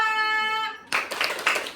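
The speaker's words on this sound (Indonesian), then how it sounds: "beri tepuk salut buat kelompok 2" Fifth-grade classroom applauding a group, a short burst of claps with a few sharper hits after a sustained tone cuts off, fairly faint.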